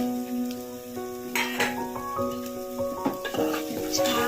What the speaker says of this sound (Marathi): असे मसाला मिक्स करून घ्या